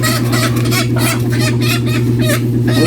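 Chickens clucking continuously, a busy overlapping chorus of short clucks close by with a steady low hum underneath.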